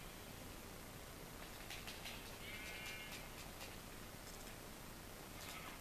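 Sheep in the Minecraft video game bleat faintly a few times over a steady, loud hiss of background noise, with no voices.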